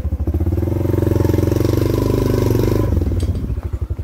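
A motorcycle carrying three riders rumbles steadily and close, its engine note loud and continuous, then shifts and fades slightly near the end.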